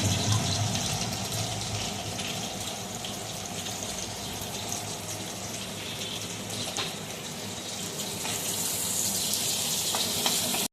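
Onion sizzles in hot oil with chopped tomato, ginger, green chilli and garlic added, a steady close crackle and hiss that brightens and intensifies toward the end, with faint stirring.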